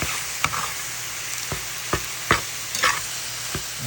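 Ground turkey browning in a frying pan, a steady hiss of sizzling punctuated by a handful of sharp scrapes and taps from stirring at roughly even intervals, close and fairly quiet with no voices.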